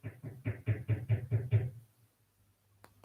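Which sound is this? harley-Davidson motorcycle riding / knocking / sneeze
knocking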